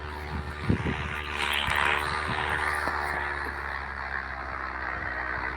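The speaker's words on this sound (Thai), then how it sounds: "เสียงเครื่องบินมันมา แต่ไม่เห็นเครื่องบินเลย" A crop-spraying propeller airplane in the Farming USA 2 video game drones steadily overhead, with a few soft clicks early on and no talking.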